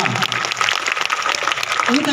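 Audience applause welcomes the chief guest at a school Independence Day celebration: a brief burst of steady crowd clapping mixed with voices.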